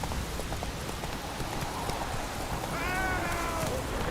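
Roach the horse in The Witcher 3 trots with steady clip-clop hoofbeats under a constant wash of rain, with a brief whinny-like call near the end.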